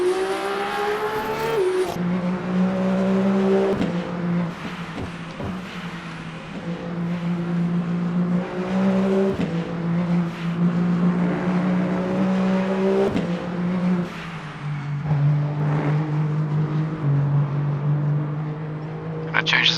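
The number 36 Alpine race car's engine drones and climbs through its revs in Le Mans Ultimate, loud and near, with smooth tonal gear steps and a faint tire squeal as it leaves the pit at the 24 Hours of Le Mans.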